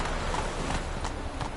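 Horse hooves clip-clopping in The Witcher 3 video game, a steady rhythm of soft thuds over a constant background wash, close and moderately loud.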